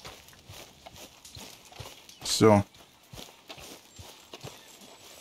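Horse hooves clip-clopping in Red Dead Redemption 2, a steady walking beat of soft hoof falls with one brief loud burst midway, under someone talking quietly.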